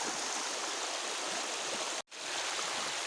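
A river rushes past a campsite at Rio Magdalena in Santa Cruz, Laguna, a loud steady broadband roar of flowing water with one brief dropout partway through.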